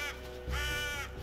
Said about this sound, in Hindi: अवो वो कौवा ही ओडिन तो नहीं है कहीं